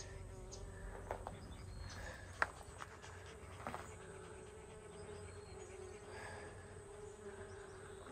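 Bees buzzing around old ruins and mines in the desert Southwest, a faint continuous drone close by with a few scattered knocks and footsteps.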